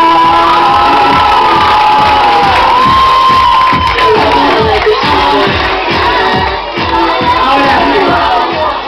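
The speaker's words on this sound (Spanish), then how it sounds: "¡Un fuerte aplauso para el instrumento Iván!" A live show crowd cheers and applauds for a performer named Iván, loud and sustained shouting and whooping with rhythmic clapping underneath, continuous for several seconds.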